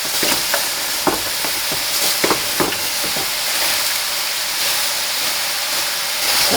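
Bottle gourd sizzles loudly and steadily as it sears in a hot pan, a constant hissing fry with occasional small pops and crackles.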